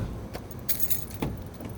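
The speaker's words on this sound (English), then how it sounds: "Should check for the keys before I shut the door." A bunch of keys jangles in short metallic bursts close by, outside a house with a car nearby in Baltimore's Hollins Market area, with faint road noise behind.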